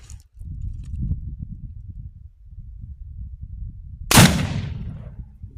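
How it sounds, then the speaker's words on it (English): A muzzleloading blackpowder double-barrel shotgun loaded with a slug fires one sharp, loud blast outdoors, preceded by several seconds of low rumbling background noise and followed by a fading tail. "This gun might just not be a ball shooter. But we're gonna know."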